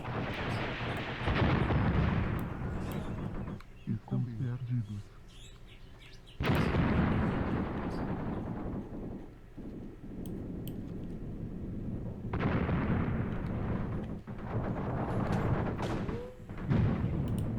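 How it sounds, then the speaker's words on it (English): Grenades explode in a war video game set in the South African Border War, with repeated loud, booming blasts and rumbling decay separated by quieter stretches of ambient noise. "let's hope that one of these grenades lands true"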